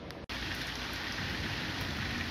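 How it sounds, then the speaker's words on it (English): Steady rain falls outdoors in a continuous, even hiss of drops striking surfaces, broken only by a brief dropout near the start and otherwise unchanging at moderate loudness. "We have even more rain, and it makes me very, very happy."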